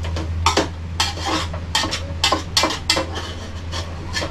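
Onion frying in a pan for paneer biryani, stirred with a utensil: rhythmic scraping clatters of the spoon against the metal pan over a faint steady sizzle and low hum, close up and with no talking.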